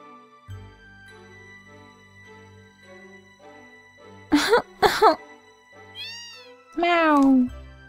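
Cat meowing in the video game Final Fantasy 7, set in a snowy town: two quick clipped mews followed by a longer drawn-out meow, close and clear over soft game music.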